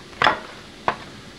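A kitchen knife slices through burbot milt on a board, giving two short, soft cutting sounds about half a second apart, close and moderately loud, with no talk.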